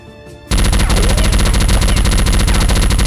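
Dense, continuous machine gun fire erupts after a brief quieter moment, loud and relentless with rapid overlapping bursts.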